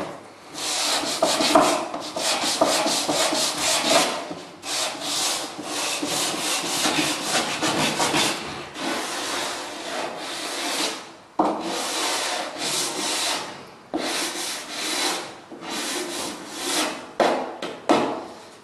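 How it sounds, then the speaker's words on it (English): Rhythmic, raspy sanding-block strokes on a wooden window sash, fast back-and-forth rubbing in bursts with short pauses, close and fairly loud. "I'm going to finish it off with my sanding block here"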